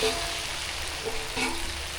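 Plantain pieces for a Tamil-style plantain fry, half-cooked and now mixed with masala, sizzle steadily in a pan. The hiss is continuous and fairly soft, with no talking.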